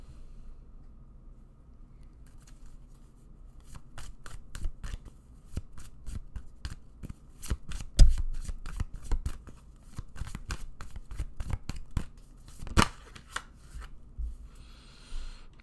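Tarot cards being shuffled by hand, a long run of crisp riffling snaps and flicks in irregular bursts, close and fairly quiet, with no talking.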